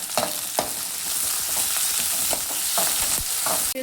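Sliced capsicum and curry leaves sizzle in hot oil while being stir-fried for gobi manchurian, a steady close frying hiss broken by repeated scrapes and knocks of a spatula in the pan.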